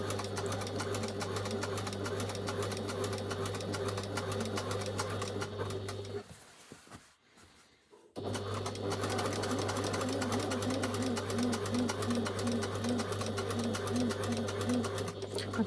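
Sewing machine running a jacket seam, with close, steady mechanical whirring and rapid needle chatter, a roughly two-second pause in the middle, then stitching that resumes at the same even pace.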